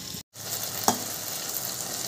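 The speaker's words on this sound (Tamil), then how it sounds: "இங்கே பூரி போடுறதுக்கு எண்ணெய் நல்லா சூடாகிட்டு இருக்கு" Hot oil sizzles steadily in a pan, heating for frying ragi poori, a dense close hiss broken by one brief dropout and a small pop.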